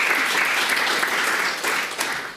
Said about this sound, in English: he deserves a round of applause anyway